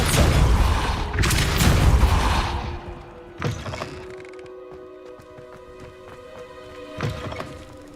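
Depulso force spell cast in Hogwarts Legacy, a loud booming blast with a deep thud at the start, followed by two smaller impact thumps and a lingering game hum.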